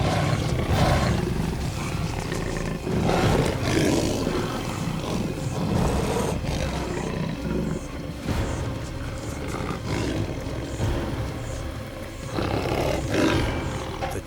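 Wild lions fighting at close range: a dense, continuous tangle of deep roars, snarls and growls rising and falling in repeated loud bursts, harsh and chaotic with no voices over it.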